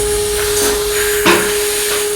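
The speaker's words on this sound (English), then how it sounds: "this is the counterboard drill" A dental implant counterbore drill for a narrow-platform implant whirs steadily with a thin high tone, a short louder scrape of cutting into bone near the end, close and alone.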